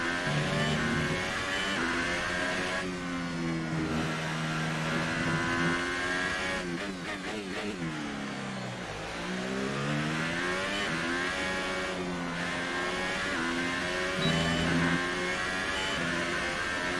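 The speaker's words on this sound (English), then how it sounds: "The car feels good, the car sounds good, it's an awesome game so far." An F1 car engine in the racing video game F1 2018 screams at high revs, pitch climbing and dropping through gear changes and a deep dip around corners, loud and continuous with no talk.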